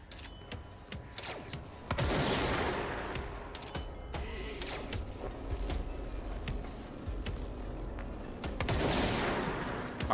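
Gunfire from the video game Control, sharp shots and bursts scattered through dense game action with mechanical clanks and creaks, loudest near the start and again near the end.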